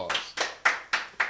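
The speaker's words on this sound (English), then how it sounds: "So everybody give James a round of applause." A few sharp hand claps in quick succession, five distinct claps at a steady rhythm, close and clear.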